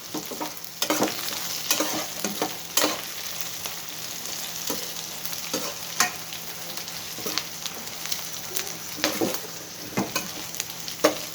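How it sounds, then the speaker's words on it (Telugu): Brinjal pieces frying in oil while being stirred, a constant sizzle broken by repeated scraping and clinking strokes of the spoon, close and alone. "ఇవి ఇంకా ఎర్రగా వేపుకోండి వంకాయ ముక్కలు"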